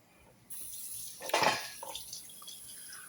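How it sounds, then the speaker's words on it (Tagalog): Water splashes and pours into a metal pot of cooking chicken for about a second, preceded by a brief hiss, then a few small drips and clinks. "Lagyan natin ng konting tubig"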